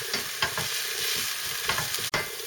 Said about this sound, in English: the crushed garlic, and fry it slightly until it's translucent